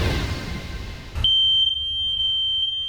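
A household smoke detector sounding a steady, piercing high-pitched alarm tone that cuts in abruptly after a noisy stretch and holds loud and close with slight pulsing.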